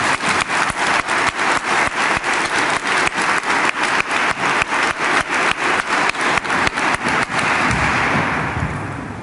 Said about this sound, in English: Can we give another round of applause to Darren for such a wonderful rendition of the national anthem?